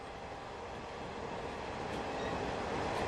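A train runs along rails with a steady, broadband rumble that slowly builds in loudness, close and continuous throughout, with no voices.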